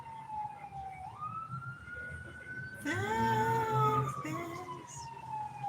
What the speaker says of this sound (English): it could be fire truck, it could be ambulance, we're not sure.